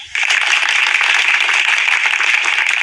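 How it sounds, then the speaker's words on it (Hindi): A dense, loud wash of clapping rises abruptly after a brief pause and holds steady as students applaud the players after a school game. "अब हम ताली बजाएं"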